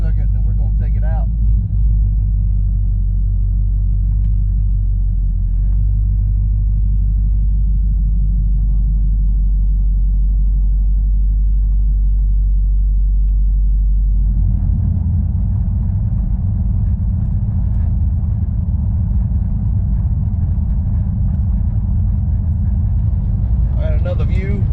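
A 1968 Dodge Charger V8 idles while warming up, a loud deep steady rumble that shifts to a rougher, choppier throb partway through, running alone without talk.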